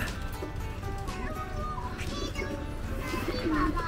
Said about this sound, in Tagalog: Oo, kalapati papa.